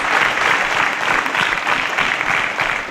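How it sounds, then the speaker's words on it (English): Steady, dense applause from a quiz show studio audience for contestants who all answered correctly, loud and continuous throughout with no talking over it. "A round of applause for our contestants as they all got it right."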